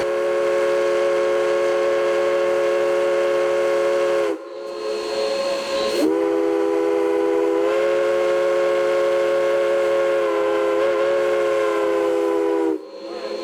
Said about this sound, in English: I think that was our 4-whistle warning